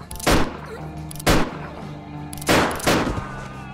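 Four sharp, booming gunshots ring out close by at uneven intervals, each followed by a short echoing tail.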